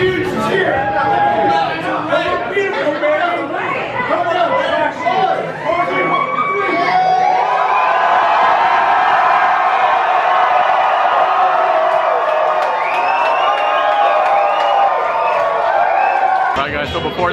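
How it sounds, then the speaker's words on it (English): A large crowd at a gathering with The Longhairs lets out a loud, sustained roar of cheering and whooping, building into a dense wall of shouting voices that holds for many seconds. "Huge cheer!"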